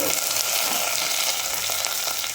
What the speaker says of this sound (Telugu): కట్ చేసి పెట్టుకున్న ఉల్లిపాయలని పచ్చిమిరపకాయలని కరివేపాకుని వేసుకున్నామండి